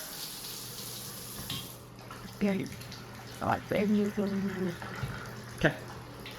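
A bathtub faucet in a house being toured runs hard under strong water pressure, a steady close gush beneath a man's intermittent speech.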